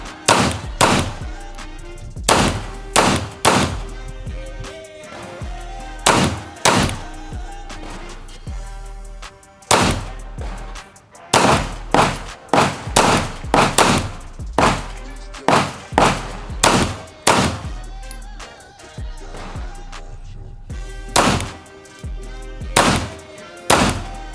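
A full-size Ruger RXM pistol fires its last magazines outdoors, a long sequence of loud, sharp close gunshots in irregular strings, some fired in quick succession, with brief pauses between groups.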